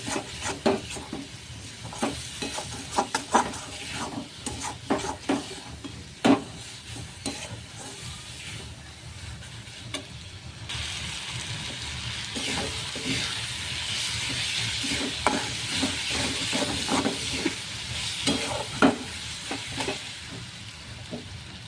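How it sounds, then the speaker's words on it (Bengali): Onions sauté with cumin paste in a pan, a continuous sizzle under repeated scraping and stirring strokes that grow denser and hissier in the second half. "এভাবে ভালো করে কষিয়ে নেব।"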